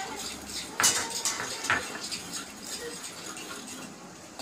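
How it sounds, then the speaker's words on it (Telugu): Curry leaves are tossed into cashews frying in oil in a pan, with a couple of sharp metallic clinks from the utensil over a low, steady hiss, close and moderately loud, with little or no talking. "కరివేపాకు వేస్తున్నాను."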